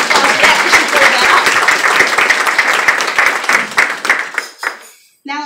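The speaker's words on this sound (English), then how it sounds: "give her a round of applause for that" Audience applause at a community gathering, loud and dense at first, then thinning into scattered claps and fading out, with a voice coming in at the very end.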